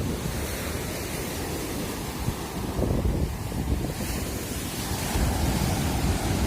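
Strong sea waves wash steadily over a stony beach near Mersin, Turkey, on a morning shore, a continuous close roar of surf with swelling surges and some wind buffeting the microphone, no voices.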